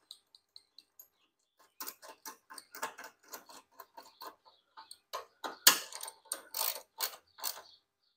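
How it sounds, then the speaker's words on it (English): Ratchet wrench clicking as a 10 mm bolt is tightened on the bottom of the air box of a 2021 Chevrolet Equinox, with a few sparse ticks first, then a steady run of close, quick ratcheting clicks. "Now I'm going to reinstall this one 10 millimeter bolt for the bottom of the"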